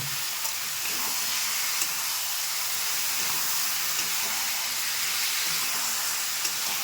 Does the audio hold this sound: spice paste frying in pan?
yes